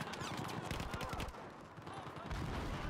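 Rapid bursts of gunfire in the video game Battlefield 4 crackle in quick succession, fairly quiet, with a brief lull before more shots resume.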